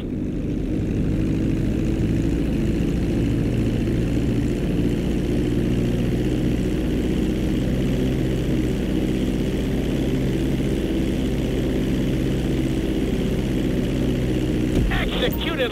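A propeller airplane engine in the Grand Theft Auto 5 flight school slowing to land, a steady loud droning hum with layered tones that runs unbroken, ending in a brief rumbling thump as it touches down.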